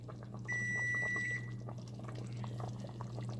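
A kitchen timer gives a single sustained electronic beep lasting about a second, heard over the steady hum and bubbling of a pot cooking on the stove.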